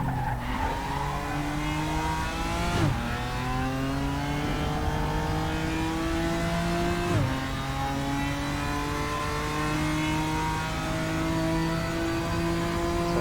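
A race car engine drones steadily on the final lap in RaceRoom, rising in pitch through each gear and dropping sharply at the shifts, loud and close throughout with no talk.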